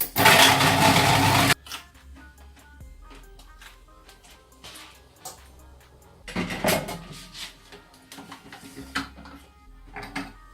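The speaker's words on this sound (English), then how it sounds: "I'm just going to use a machine to grate them all really quickly." A kitchen machine grates carrots: a loud, dense whirring roar for about a second and a half, then a stretch of clattering, scraping and bumping of parts and bowl, with another busy burst of rattling later, close and fairly loud without speech.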